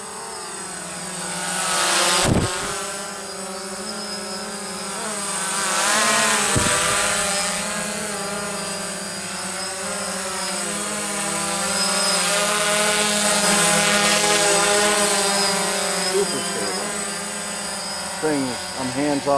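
A DJI Phantom drone on its maiden flight in a breezy backyard gives off a steady, close whirring drone of propellers, rising and falling slightly in pitch, while a voice talks throughout.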